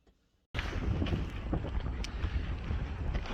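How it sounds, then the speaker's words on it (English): Cold wind at Arbeia Roman fort in South Shields buffets the microphone as a loud, rough, continuous roar that starts suddenly after a quiet half second and carries on unbroken. "It's just the wind is so damn cold, my eyes are watering."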